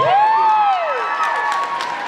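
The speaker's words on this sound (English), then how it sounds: "Give yourself a round of applause." A convention panel audience breaks into a sustained burst of applause and cheering at close range, a dense, loud crowd roar that holds steady for about two seconds, with whistles and whoops rising through it.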